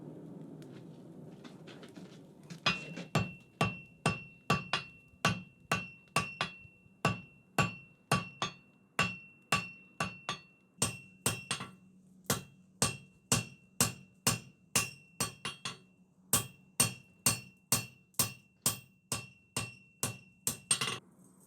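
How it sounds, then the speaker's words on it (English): Steady hammer blows on hot steel bars being forge welded, dozens of sharp ringing strikes in a brisk, even rhythm, close and loud, following a short stretch of low workshop rumble. "I'll get them tacked on, then we can forge weld them"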